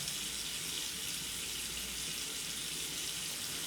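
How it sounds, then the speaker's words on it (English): A water tap running steadily into a sink while hands are rinsed, giving a constant close hiss of flowing water. "a quick rinse up and down, and a good shake"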